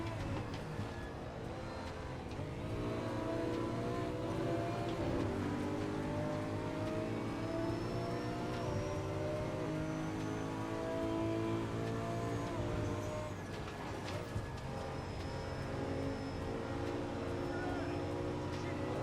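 A race car engine in a racing sim, an AMS2 Le Mans or Nordschleife race, drones loud and continuous with rising and falling pitch as it shifts gears, while a voice talks over it.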